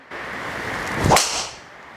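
A single sharp crack of a Callaway Rogue ST driver hitting a golf ball cuts through a steady outdoor hiss, followed by a brief fading whoosh.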